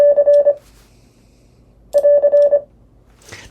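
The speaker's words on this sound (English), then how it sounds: "AR means I'm done sending now" Morse code CW prosign AR sent as a steady pure tone, a quick run of short and long beeps in two bursts with a pause between, clean and close with no talk over it.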